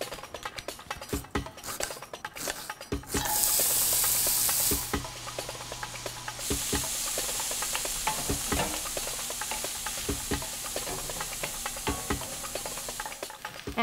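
An onion sizzles as it is sautéed in the pan used earlier to brown eggplant for a Lebanese dish, a steady frying hiss that swells loudly when it hits the hot pan, with stirring clatter throughout.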